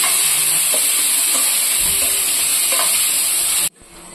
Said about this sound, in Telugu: తర్వాత ఇందులోకి కట్ చేసి పెట్టుకున్న టమాటా ముక్కలు కూడా వేసి